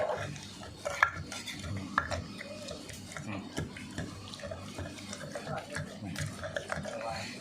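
Fish laab is pounded in a mortar, with broth drizzled in as it's worked. Fairly regular pestle thuds land about once a second, with sharp clinks and wet knocks between them and someone talking over the work.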